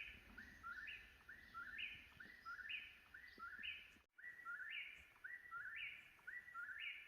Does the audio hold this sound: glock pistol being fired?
no